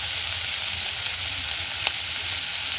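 Fish fat frying in a pan as its oil renders out, a loud continuous sizzle close by with a faint clink partway through.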